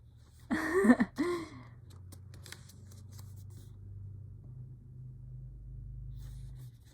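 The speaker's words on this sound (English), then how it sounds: "there's a car going off in the background" A car passes outside a bedroom window, heard as a low, steady rumble that swells and lingers, after a short burst of rustling up close.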